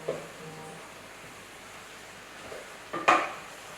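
Gnocchi sauce of meat, onion, vegetables, herbs and spices being stirred in a pan, with faint scraping and a soft sizzle under steady noise, ending in a sharper utensil clank against the pan.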